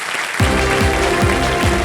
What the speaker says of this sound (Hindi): एक बार फिर तालियों के साथ इनका हम अभिनंदन करते हैं